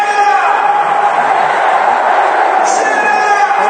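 Football stadium crowd roaring steadily after a goal, a dense distant wash of cheering and shouting that holds level throughout, with a commentator talking over it.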